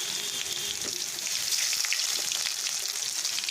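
A paste of garlic, onion, green chili, turmeric and cumin sizzles and crackles in a hot pan, a close, steady frying hiss broken by small pops and stirring scrapes.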